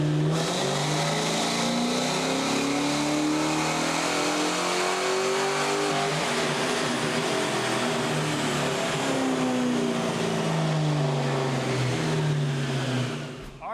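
A 1998 SN95 Mustang GT with a swapped 4.6L PI engine, bolt-ons and a 4R70W automatic, loud and steady on a dyno as the engine note climbs, shifts and climbs again over about fourteen seconds, with no voices.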